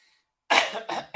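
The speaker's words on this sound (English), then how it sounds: "Sorry, I had a cough." A single person coughs twice in quick succession, close and loud, after a near-silent pause, during a casual TV recap podcast.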